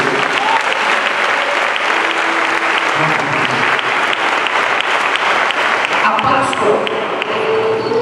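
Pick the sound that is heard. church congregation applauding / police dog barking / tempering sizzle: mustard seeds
church congregation applauding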